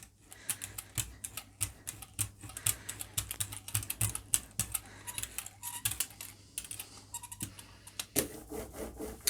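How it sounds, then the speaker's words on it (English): A brayer rolls gold paint into a thin, even coat on a gel printing plate, giving dense sticky crackling and rubbing passes close by with no talk, ending in a brief heavier rolling burst. "I'm going to use my brayer just to roll that out and create a nice thin,"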